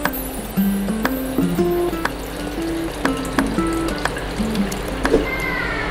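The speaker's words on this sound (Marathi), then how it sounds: "आणखीन आपण पाणी ओतूयात ह्याच्यात।" Water is poured into Malvani curry masala in a pan, with close gurgling and trickling while the liquid fills, along with light drips and clinks.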